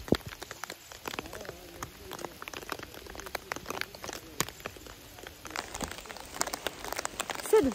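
Rain and small hail patter on a raincoat and the ground during a mountain trek near Tungnath Temple on the way to Chandrashila, an irregular stream of close, light, crisp ticks and drips.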